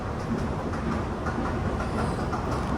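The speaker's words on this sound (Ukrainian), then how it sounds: "Мабуть, останнє метро в нашій житті." A metro train in Kuala Lumpur runs on its rails with a steady, loud rumble and faint rhythmic clatter, heard from nearby without talking.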